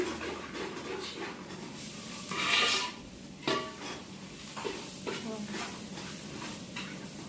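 Onions and masala for chicken curry are stirred in a pan, a soft sizzle broken by a few scraping clatters of the spoon against the pan, fairly quiet and close.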